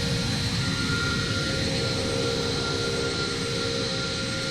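Airplane taking off in the Roblox game Flightline3D, a steady loud jet engine roar with broadband rumble sustained throughout, no talking.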